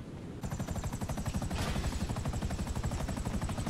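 Helicopter in GTA 5 Online, rotor blades chopping in a fast steady rhythmic pulse that starts abruptly and holds loud and close with a high whine over the thumping.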